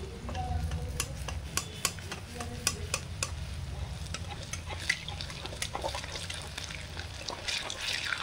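Chhana moti balls frying in a little oil, with a steady close sizzle and bubbling and intermittent scraping stirs of a spoon against the pan, without speech.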